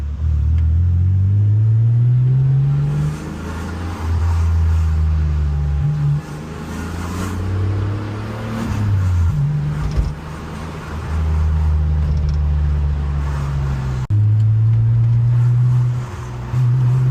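A 1988 BMW 635CSi engine runs with a loud, low, steady tone, the pitch stepping up and down several times as the car drives, with brief dips in level between passes and no one speaking.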